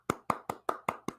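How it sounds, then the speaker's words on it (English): Six evenly spaced, crisp hand claps in a quiet room, a slow, deliberate golf clap. "Golf clap."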